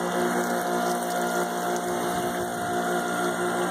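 A Karcher 1900psi 1.3gpm electric pressure washer sprays soap through a low-pressure soap nozzle, making a continuous whining pump hum over a steady watery rush with no break.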